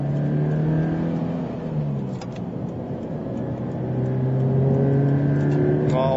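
A Toyota 86 sports car engine drones and revs steadily on a highway, pitch climbing through upshifts with a constant road roar, close and loud.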